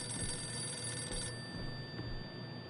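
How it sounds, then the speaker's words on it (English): Telephone ringing in the horror video game Visage, a steady electronic bell trill heard faintly throughout with no talk. "Phone is ringing."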